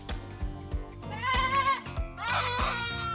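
A black goat on a farm bleats loudly as it is grabbed and lifted, giving two drawn-out, wavering cries close by amid rhythmic thumps and shuffling.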